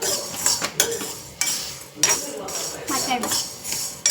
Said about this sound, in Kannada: ಗೈಸ್, ಈ ಥರ ಕ್ರಷ್ ಮಾಡ್ಕೊಳ್ಳಿ ಕುಟ್ಟಾಣಿಯಲ್ಲಿ.